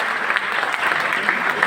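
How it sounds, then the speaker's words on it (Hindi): An audience at a University of Allahabad student meet-up claps loudly for a student, a dense, even patter of many hands sustained throughout. "जोरदार तालियां अंकित के लिए"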